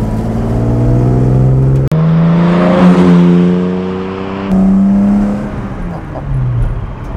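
A restored 1966 Jaguar E-Type 3.8 coupé revs hard through the gears while driving. Its loud, close engine climbs in pitch, breaks off briefly at each shift, then pulls again and settles into a steadier drone.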